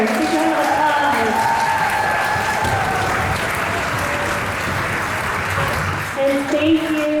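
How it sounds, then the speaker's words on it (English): Loud, full applause from a concert audience for fifth grade orchestra students at an honors orchestra concert, continuous clapping with cheering voices mixed in, easing slightly near the end. "Give them a applause."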